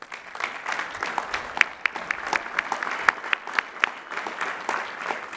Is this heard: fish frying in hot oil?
no